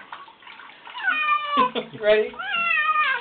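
A cat meows repeatedly through a bath, her drawn-out, wavering cries rising and falling close up while people talk softly over and between them.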